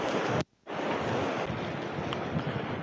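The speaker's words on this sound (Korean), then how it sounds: "파도가 좀 있네." Surf breaking against a small harbor breakwater on a rocky coast, a steady broadband wash with wind rumble, cut by a brief dropout near the start before the roar resumes alone.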